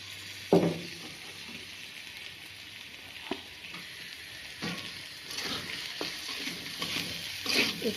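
Chewa fish frying in a pan as oil from the fish belly is added, a steady hissing sizzle with occasional sharper spatters and stirring scrapes, heard close with no talking.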